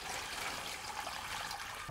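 Warm water pours steadily into a container for a degreaser wash while cleaning Bridgeport milling machine tooling, a continuous close rushing and splashing with no talk.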